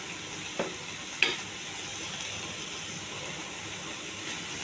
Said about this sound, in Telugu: ఇది చాలా హెల్దీ ఫ్రై అండి. బఠానీ కాబూలి శనగలు.